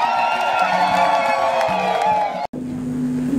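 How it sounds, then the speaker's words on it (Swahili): Applause mixed with high, warbling ululation from a congregation at a Catholic priestly ordination mass at St Joseph parish in Sumve, a dense, steady crowd roar that continues after a brief break. "Makofi na vigelegele."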